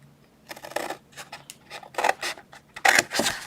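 Scissors snip through cardstock paper pieces in a series of short, close, crisp cuts with brief pauses between them, quiet and with no talking.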